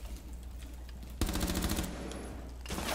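Rapid automatic gunfire in a hostage-rescue shooter game, fired through a wall: a short burst of dense, close shots breaks out after a quieter lead-in and continues rattling, with another sharp burst at the end.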